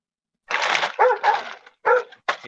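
A Labrador barks several times in quick succession, sharp and fairly close, with short gaps between the barks.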